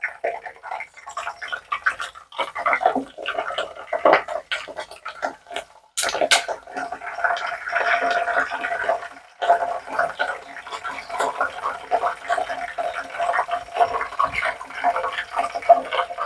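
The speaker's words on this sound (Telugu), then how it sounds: "కడిగిన తర్వాత అవి ఇంకా పూర్తిగా డ్రై అవ్వలేదు, అందుకే కొంచెం అలా సౌండ్ వస్తుంది" Wet, freshly washed hibiscus leaves sizzle and crackle in hair oil heating on low flame, a close, busy spattering that comes in bursts and then grows into steady frying.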